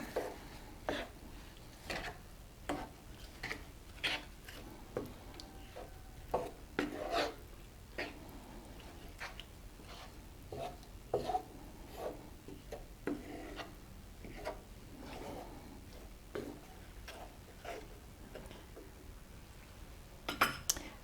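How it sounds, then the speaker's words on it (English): Quiet, regular clinks and scrapes of a utensil stirring a brown sugar mixture for crockpot BBQ pork ribs, a steady rhythmic tapping against the pot lasting about twenty seconds. "Okay, I'm going to stir this all up."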